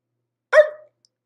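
A person imitates a dog's bark with a single short, sharp yelp, loud and close, surrounded by silence.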